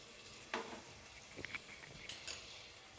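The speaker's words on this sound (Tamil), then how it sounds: "சிம்மில் வச்சுட்டு நல்லா இது கொஞ்சம் வறுபடட்டும்." Bay leaf, chilli, shallots and garlic fry gently in butter over low heat, giving a faint, soft sizzle broken by a few quiet stirring scrapes and clinks.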